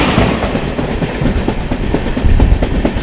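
The Nagercoil Amrit Bharat Express, hauled by a blue locomotive, rushes past during a crossing as a loud, continuous rattle of wheels with rhythmic clickety-clack beats close by, and no one speaks.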